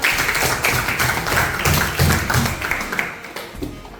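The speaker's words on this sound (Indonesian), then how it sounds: "Oke, tepuk tangan." A class in a school lesson claps their hands together, a brisk burst of mixed, uneven claps up close that fades toward the end, with no talking over it.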